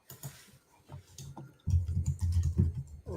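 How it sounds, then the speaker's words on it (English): Loud clacky computer keyboard typing close to the mic, scattered keystrokes at first, then a denser, faster burst of heavy key presses. "Sorry if my keyboard's loud."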